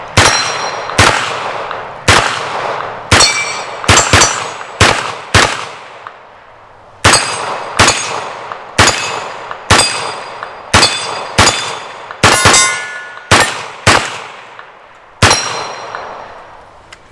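A CZ Scorpion EVO 3 9mm fires about twenty sharp shots in uneven bursts and singles, each followed by a ringing metallic clang from steel targets, loud and close outdoors.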